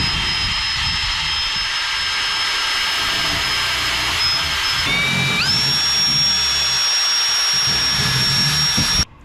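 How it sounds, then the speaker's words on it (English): A power drill bores out holes in a C-Dory TomCat boat helm, then works with a chamfer bit; a loud, steady high whine holds, dips briefly and rises again in pitch before cutting off abruptly at the end. "So I'll go ahead and drill those out and use a chamfer bit as well"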